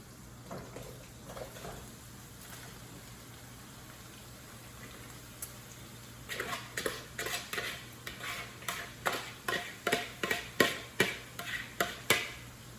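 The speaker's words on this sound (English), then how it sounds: "we're just going to continue stirring it up until it's all nice and cooked" A utensil stirring ground meat and stuffing mixture for Italian stuffed mushrooms in a greasy pan, soft sizzling underneath, then rhythmic scraping strokes repeating steadily and close.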